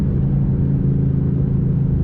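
A Ford Mustang engine rumbles steadily at close range while driving, a low continuous drone with a slight revving throb and no voices.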